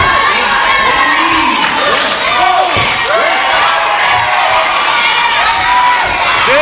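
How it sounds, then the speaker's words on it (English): Packed crowd at an independent wrestling show roars loudly, with cheers, children's shouts and whoops rising over constant crowd noise, while a commentator's voice runs underneath. "This Orville crowd so loud tonight here at Off the Chain"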